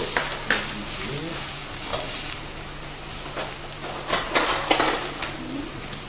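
Ribs being stirred with soy and other sauces in a pan, giving a steady close sizzle broken by scattered light scrapes and clinks of the stirring utensil, with no talk.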